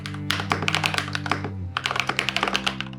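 Mechanical keyboard with freshly installed keycaps being typed on at a steady pace, crisp clacky keystrokes close up over a low background hum.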